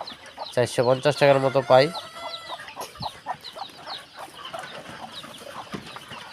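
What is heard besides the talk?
native chickens clucking on a home farm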